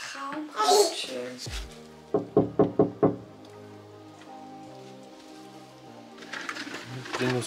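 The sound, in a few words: knocking on a door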